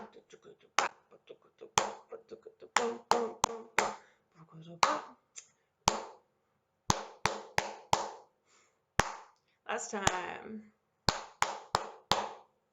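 Sharp, close hand claps (palmas) beat out a jongo rhythm in a Brazilian-style practice, with a speaking voice counting and vocalizing the pattern between groups of crisp, evenly spaced claps.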